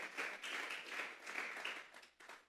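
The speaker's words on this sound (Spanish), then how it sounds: "Denle esa ofrenda de palmas a Dios en esta hora." A church congregation claps hands together as an offering to God, producing a dense, continuous patter of many hands that stays fairly faint and even before briefly dropping near the end.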